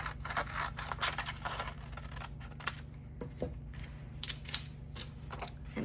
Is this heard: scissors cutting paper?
yes